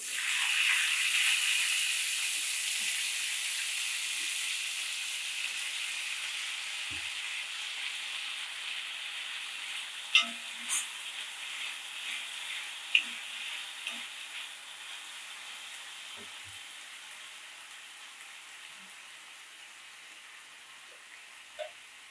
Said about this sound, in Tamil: காயெல்லாம் போட்டு ஒரு வதக்கவும்